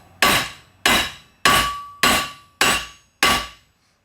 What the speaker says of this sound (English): You're going to take a 3-pound hammer.